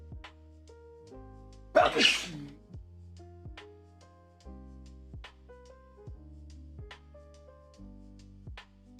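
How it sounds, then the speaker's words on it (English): One sharp, loud sneeze bursts out near the start, standing out above steady tonal background sounds that continue throughout. "Sneeze again."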